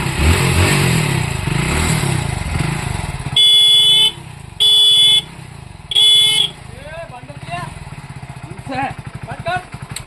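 Motorcycle engine running close by with three loud, sustained horn blasts in a row, followed by the idling engine ticking and revving while people talk in the background.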